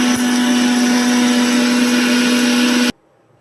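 A mixer grinder jar grinds dried curry leaves with rock salt, giving a loud, steady, high-pitched motor whine that runs close and unbroken for about three seconds before cutting off abruptly into near silence.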